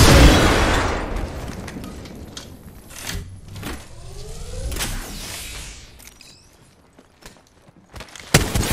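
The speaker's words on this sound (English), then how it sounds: "Look out, grenade." Grenade blast in a shooter video game, a loud burst at the start followed by scattered pops, thuds and bursts of gunfire at varying distances across the scene.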